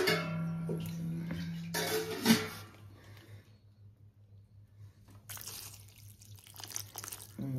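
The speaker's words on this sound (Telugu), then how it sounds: "ఒక గ్లాసు నీళ్ళు పోసాను" Water poured from a glass into a cooking pot for cucumber dal, a splashing, trickling pour for about two seconds, then quiet, with a second burst of splashing and dripping near the end.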